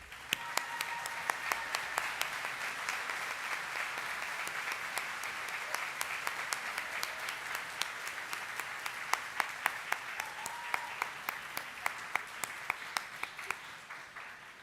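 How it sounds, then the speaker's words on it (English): A large commencement crowd at Thomas College's 2025 graduation gives sustained, steady applause for about fifteen seconds, a dense wash of many hands with sharper individual claps popping out near the front. "Please stand and give a round of applause to the Thomas College faculty and staff who supported you along the way."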